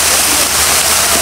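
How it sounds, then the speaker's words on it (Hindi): Water pours steadily from a decorative fountain, a continuous broadband rush with no breaks, close and fairly loud. "फवारे को देखते हैं यार कितना प्यारा बना है"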